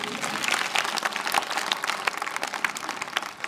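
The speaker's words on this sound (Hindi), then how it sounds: "जरा जोर से ताली बजाओ आप लोग" Audience applauding in a school hall during a motivational talk, many hands clapping fast and sharp in a steady burst that is fairly close and moderately loud.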